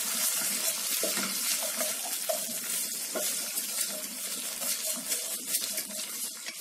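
Vermicelli fries in butter in a home kitchen pan, a steady bright sizzle and crackle with light scraping of a utensil stirring throughout.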